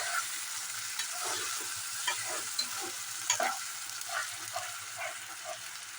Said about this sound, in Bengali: এবারে আমি এতে আদা আর টমেটোর পেস্টটা দিয়ে দিলাম। এবার এটাকে ভালোভাবে মিক্স করে নেব।